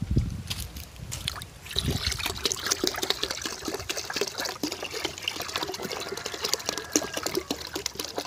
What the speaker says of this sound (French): C'est l'urine que je suis en train de verser comme ça.